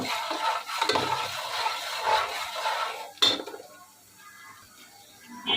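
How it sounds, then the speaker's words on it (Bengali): Onion frying in a pan with salt, stirred with a utensil that scrapes and clinks against the metal, a steady sizzle running underneath with one sharper knock partway through. "লবণটার সাথে পেঁয়াজটাকে আমি আরেকটু নেড়ে চেড়ে ভেজে নেব।"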